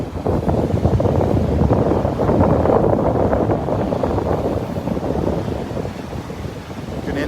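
Strong wind buffets the microphone on Vanderbilt Beach, a loud continuous roaring rush that eases slightly toward the end with no voices.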